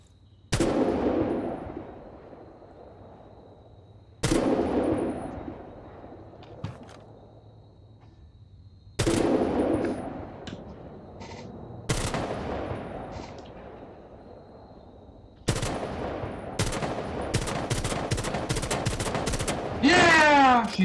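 Gunfire in a PS4 video game: several loud, sharp bursts with ringing tails spaced a few seconds apart, ending in a rapid automatic volley, with a voice talking briefly.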